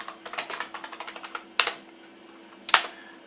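Keys clattering on a computer keyboard of a 1992 Tandy 486 while entering a command, a quick run of close, crisp keystrokes followed by two heavier, louder key presses with brief pauses between.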